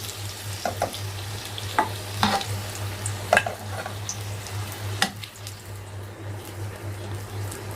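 Skin-on potatoes fry lightly in a pot with onion for a one-pot spiced kebab dish, producing a continuous close sizzle with irregular stirring clatters and a steady low hum underneath.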